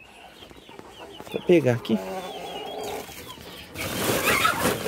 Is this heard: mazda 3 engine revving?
no